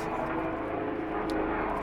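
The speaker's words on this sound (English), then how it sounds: "there is an helicopter passing by" A passing helicopter's low drone rumbles steadily in the background, a continuous engine hum with no clear rise or fall.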